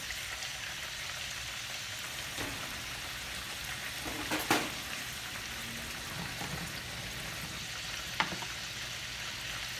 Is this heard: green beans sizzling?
yes